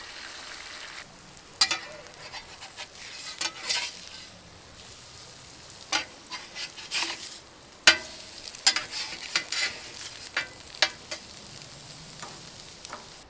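Butter sizzles and fries on a 22-inch Solo Steelfire travel griddle at a creekside breakfast, giving a steady close crackle broken by sharp pops and scraping stirs, with no talking.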